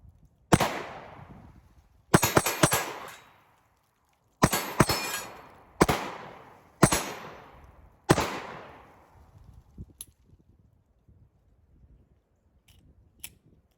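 Roughly eight sharp pistol shots from a PSA Dagger with a 15-round magazine, fired at steel targets outdoors, come at an uneven pace, each followed by a ringing decay, with a fainter pop near the end.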